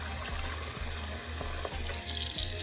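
Warm water runs steadily from a tap into a bowl at a sink for washing makeup brushes, a continuous close splashing stream that grows slightly louder near the end, with no talking.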